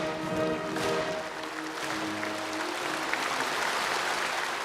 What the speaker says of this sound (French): Sous les applaudissements, le président Xi Jinping entre en scène.